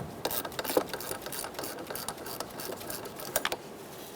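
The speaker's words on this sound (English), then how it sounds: "Use a 10mm socket." A ratchet with a 10mm socket works on a negative battery terminal of a 2010-2013 Kia Soul 2.0L, giving a faint, steady run of quick mechanical clicks over a low background hum.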